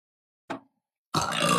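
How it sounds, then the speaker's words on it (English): One short, close burp during an energy healing session, followed after a brief silence by a louder, rougher sustained sound. "as an energy healer, I transmute energy by burping"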